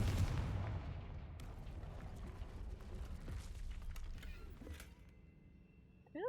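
A Confringo fire spell blasting in a Hogwarts video game, a low rumbling burst that rolls on with creaking, mechanical rattles and fades into quiet with a few brief bright chirps at the end.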